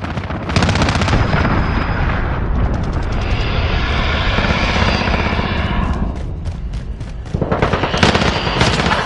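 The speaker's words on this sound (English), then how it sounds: "Allied cruise missile launched." Cruise missile launch in Call of Duty, a loud sustained roaring rush with dense crackling gunfire-like bursts, swelling through the middle, thinning, then surging again near the end, with no talking.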